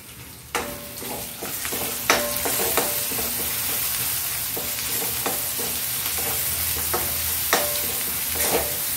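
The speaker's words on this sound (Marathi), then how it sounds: "मसाला एकदम मस्त तेलामध्ये फ्राय होतोय" Ground spice masala with coriander-cumin powder and garam masala frying in oil, a constant close sizzle broken by repeated sharp spoon scrapes and taps against the pan.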